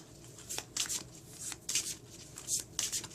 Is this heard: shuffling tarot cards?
yes